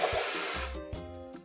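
A spray can of paint hissing onto a toy dump truck, a loud continuous burst for under a second, then two short faint puffs.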